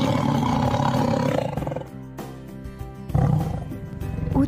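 A deep, loud tiger roar rumbles out, pauses briefly, then a second snarling roar follows up close.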